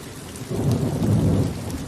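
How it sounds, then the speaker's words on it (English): Steady rain shower falling across Kew Gardens, a dense hiss of drops on leaves and ground that swells slightly partway through, close and continuous with no voices. "there's worse places to be caught in the rain"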